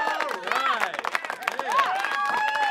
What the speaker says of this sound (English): I will give you 5 seconds to clap for it.